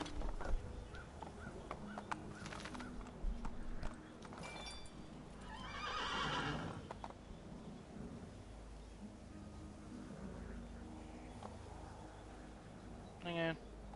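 In Assassin's Creed II, a horse whinnies, and hooves clip-clop over a low game soundscape. A sharp neigh rises near the end, and voices and background sound continue underneath.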